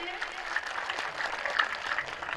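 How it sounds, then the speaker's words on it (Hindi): Audience applause at a Kanwar yatra gathering beside the Narmada river, dense clapping that continues steadily, with voices faintly mixed in. "तालियां ओजस के लिए।"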